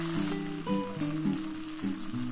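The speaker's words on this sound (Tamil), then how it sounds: "இதை 1 நிமிஷம் வதக்கி விட்டுக்கோங்க." Grated coconut sizzles while being sautéed in a hot pan as a utensil stirs it, producing soft scraping and clinking in short uneven bursts.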